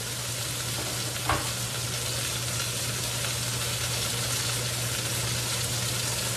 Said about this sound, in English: So now we're sauteing out that garlic